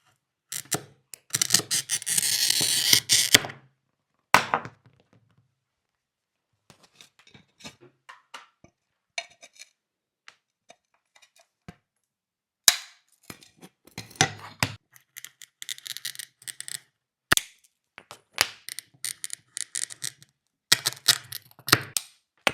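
A straight cut scored across a sheet of stained glass: a loud, rasping scratch for a few seconds, then scattered sharp clicks, taps and brief glassy scrapes with quiet gaps between.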